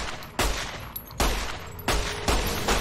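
Rapid 9mm pistol shots in Fallout New Vegas, three loud, close, evenly spaced reports with short echoing tails.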